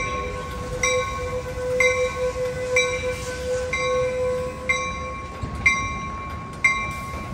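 Amtrak Capital Corridor passenger train standing at Oakland Jack London Square station, a steady mechanical hum with a tonal whine, repeated short chime-like tones sounding about once a second, and a few louder clanks near the end, no talking.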